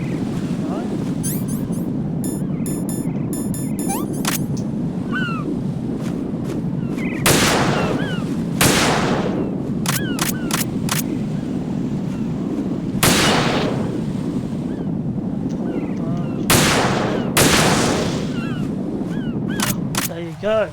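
Metal Gear Solid 2 gameplay with repeated sharp gunshot bursts in spaced clusters over a rumbling, windy ambience, with occasional chirping game effects; a voice talks throughout.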